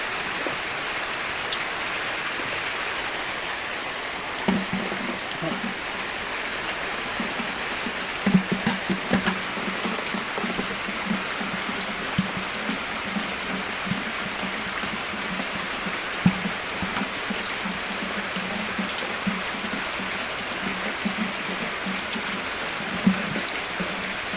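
Steady rain falls on surfaces, a continuous patter with occasional louder drops, and no other sounds.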